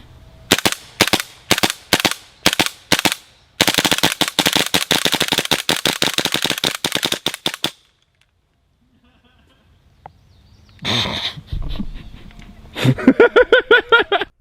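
Two WE Desert Eagle airsoft pistols fired dual wielded, first in several sharp separate shots, then a long fast string of crisp pops, followed by a pause and more clattering shots near the end.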